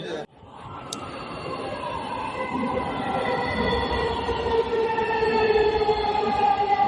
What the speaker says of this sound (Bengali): ফাইনালি মেট্রো রেল চলে আসছে আমরা কিছুক্ষণের ভিতরেই মেট্রো রেলে উঠবো